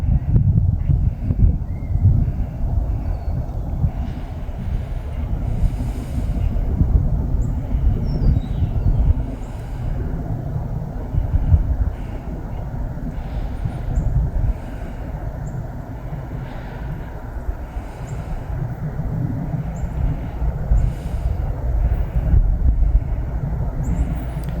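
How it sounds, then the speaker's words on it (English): A CSX freight train passes trackside, a continuous heavy low rumble and roar holding steady throughout, loud and close, with no talking. "There's a train coming now."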